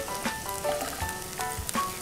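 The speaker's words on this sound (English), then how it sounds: "add our garlic first. Get that nice and sizzly." Garlic sizzling in oil in a frying pan makes a close, steady crackle with fizzing bursts and a few light clinks of a utensil, with no voices.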